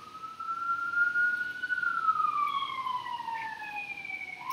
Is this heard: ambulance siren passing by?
yes